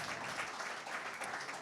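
Applause from an audience at a corporate anniversary event in Marseille, a steady dense wash of clapping that holds at an even, moderate level for its whole short length with no voices over it.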